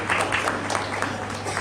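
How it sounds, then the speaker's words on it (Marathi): An audience at an employee award function applauds a winner, a dense, continuous wash of clapping from many hands that stays level throughout, with faint voices mixed in. "एकदा जोरात टाळ्या वाजवा अमोल सरांसाठी"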